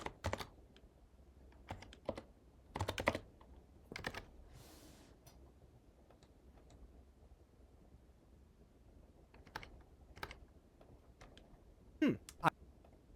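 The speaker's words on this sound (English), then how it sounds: "And if you start typing like this" Short bursts of typing on a computer keyboard, quick clusters of close key clicks separated by quiet pauses over faint background hiss.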